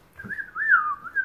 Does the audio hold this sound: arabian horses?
no